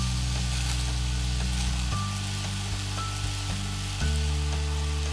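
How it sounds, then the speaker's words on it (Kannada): Boiled ivy gourd fries in coconut masala in a pan, giving a steady close sizzle throughout with occasional clinks and shifts as it is stirred. "ಸ್ವಲ್ಪ ಇದನ್ನು ಫ್ರೈ ಮಾಡ್ಕೊಳ್ಳೋಣ"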